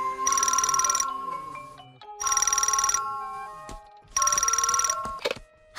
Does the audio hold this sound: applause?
no